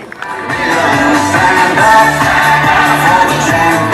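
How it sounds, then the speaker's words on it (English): A crowd at a team opening ceremony claps and cheers continuously at close range, with scattered whoops and shouts rising through the steady applause. "Big round of applause to these guys."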